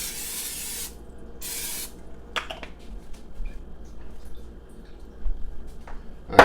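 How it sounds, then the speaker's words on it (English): Two short hissing bursts of cooking spray coat the inside of a crock pot, each about a second long, followed by a few light clanks and quiet handling noises. "hit your crock pot with a little bit of cooking spray"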